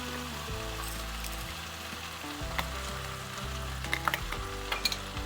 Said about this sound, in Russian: давайте теперь ждать, пока у нас картошка потихонечку жарится